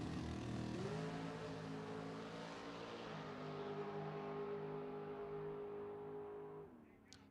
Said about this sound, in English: Race cars firing up.